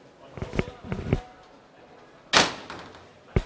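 A door on a new Boeckmann horse trailer from Germany swings shut and its automatic latch engages, giving a loud clanking slam after a few lighter knocks, with talk in the background.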